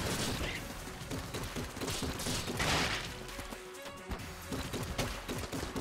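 Continuous rapid gunfire from an infinite-ammo gun in the game Enter The Gungeon, loud and dense with clattering mechanical effects throughout, briefly thinning near the end.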